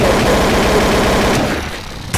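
Loud, sustained rapid gunfire in a Garry's Mod survival game, a dense burst of shots that runs continuously and then tapers off near the end, with no talk over it.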